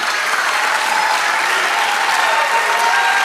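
A church congregation applauds during a sermon, with steady, dense clapping from many hands that continues unbroken and fairly loud throughout.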